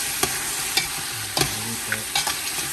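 Chicken thigh pieces cook for tinola in a hot pan, giving a steady sizzle broken by a handful of sharp utensil scrapes and knocks as they are stirred. The sounds are close, with no voices.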